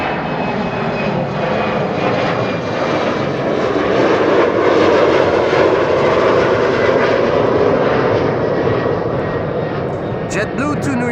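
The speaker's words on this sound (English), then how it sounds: "KLM flight 1009 is taking off." A KLM passenger jet takes off from runway 24 at Amsterdam Schiphol with a loud, steady engine roar and a thin whine that swells slightly midway and continues throughout, while a voice talks over it.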